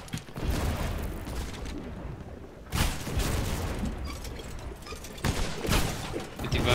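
Heavy cannon blasts boom out in the video game Blazing Sails, three loud bursts spaced a few seconds apart over a steady rumble of ship battle noise.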